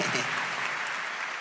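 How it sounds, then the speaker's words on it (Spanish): Theatre audience applauding, a dense, steady wash of clapping at close range that holds evenly for a short burst, with some talk mixed in. "Un aplauso para ellos, pues"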